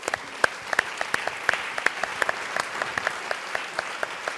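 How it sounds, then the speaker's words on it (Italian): Scattered, sparse hand clapping from an audience at an evening talk in Conegliano, individual claps spaced irregularly and fairly soft throughout. "un applauso che sottolinea insomma la bellezza di questa serata"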